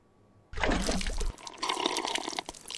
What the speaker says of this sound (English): so we're gonna drink from our canteen